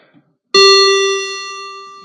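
A single bright chime sounds over a cruise ship PA ahead of the muster drill announcement, striking suddenly and ringing out with a clean tone that slowly fades in near silence.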